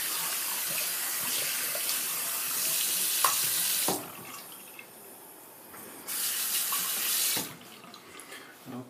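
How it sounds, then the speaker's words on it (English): Water runs from a tap as hands are rinsed after a wet shave, a steady splashing hiss that stops twice and restarts, with short quiet gaps between the flows. "Rinse off my hands."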